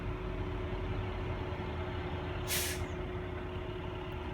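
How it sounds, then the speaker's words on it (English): A truck's air brake lets out one short, sharp hiss as the service brake is pressed during an in-cab air brake test, heard over a constant low engine idle. "I'm going to go ahead and step on the service brake and give you my new reading"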